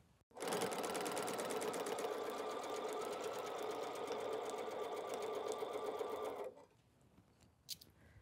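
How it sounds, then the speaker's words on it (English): A sewing machine stitching a fabric seam for a quilt, running steadily and loudly for about six seconds with a fast even rattle, then stopping into near quiet with one small click. "I'm going to sew on this side because that's going to keep that seam going down."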